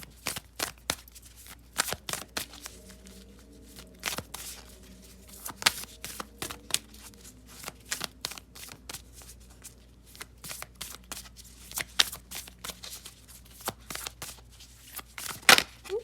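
Moonology oracle cards being shuffled by hand, a long run of dense riffling bursts and crisp card snaps close to the mic, with a faint low hum underneath and no talk.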